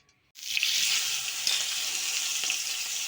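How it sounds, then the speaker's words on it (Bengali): Prawns hit hot oil in a kadai and burst into a loud, steady, close sizzle after a brief silence, with occasional faint spatters. "আমি এক এক করে হালকা করে ভেজে মাছগুলো তুলে নেব"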